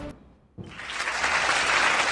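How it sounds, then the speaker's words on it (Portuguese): A brief lull, then a crowd bursts into applause that swells and continues loudly to the end. "Salva de palmas para a polícia!"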